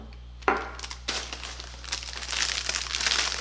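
A plastic pretzel bag crinkles and rustles up close, starting with a sharp crackle and building into continuous loud crinkling, with no speech.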